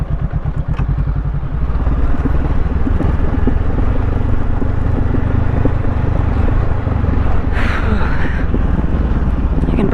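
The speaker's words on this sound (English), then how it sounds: "Can't believe I'm up on a dune and an adventure bike." An adventure motorcycle rides across a sand dune in the Paracas desert, its engine a steady loud drone heavily buffeted by wind noise, with a brief burst of hiss near the end.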